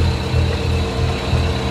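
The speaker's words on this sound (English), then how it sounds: "We started the engine around the dock of the weather station" A sailboat's engine runs near a harbour dock in windy conditions, a steady close low rumble that holds unbroken and fairly loud throughout.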